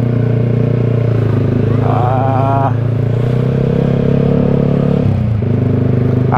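A motorcycle engine heard while riding, with a deep, round, continuous drone, a brief rising rev and a momentary dip as the throttle changes, loud and close with no talking.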